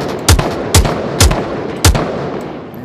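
Four sharp gunshots from a video game, evenly spaced about half a second apart, loud and close with booming low ends and no talk over them.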